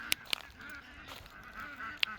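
Ducks on a farm give a few sharp, nasal honks, one early pair and another near the end, fairly close, over faint outdoor background noise.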